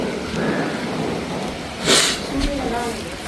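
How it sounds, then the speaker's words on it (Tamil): Rain falls steadily outdoors at a home Pongal gathering, with a sharp burst of thunder cracking partway through and a low rumble trailing after it. "மழை வந்து விட்டது."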